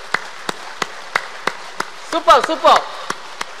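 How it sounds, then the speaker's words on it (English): A group claps hands together in steady, evenly spaced single claps at a lecture on laughter as medicine, sharp and close, briefly interrupted midway by a spoken voice. "So can we clap more like this?"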